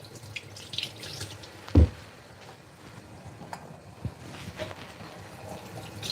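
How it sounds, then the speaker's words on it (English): Potatoes rinsed under a running kitchen tap while cooking prep goes on, a soft steady water hiss with a sharp knock partway through and faint handling clatter. "Now I got some potatoes right here. All right, let me just rinse these out real quick."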